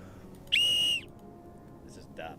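A very loud, piercing whistle blown once in a single sustained shrill blast of about half a second, cutting off abruptly and leaving near silence.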